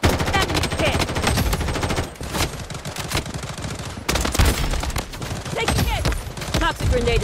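Gunfire in the Blood Strike shooter game, loud sustained rapid-fire bursts with sharp repeated shots, broken by two short pauses, with faint voices in places.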